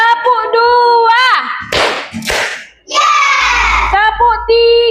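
A classroom of children performs a counted clap routine, with a few sharp group claps spaced between loud chanted voices.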